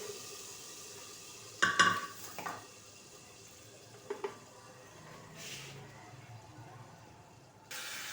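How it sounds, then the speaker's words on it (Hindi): Bursts of sizzling as cumin seeds hit hot ghee for tempering kadhi, with a few stirring clinks and hisses scattered over a quiet kitchen background. "ज़ीरे का तड़का लगाएंगे, बड़ी खुशबू आएगी।"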